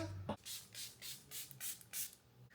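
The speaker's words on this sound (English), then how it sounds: "I'm gonna go in with some setting spray." Soft, close hissing puffs of a makeup setting spray bottle, about six quick bursts in a steady rhythm after a brief knock.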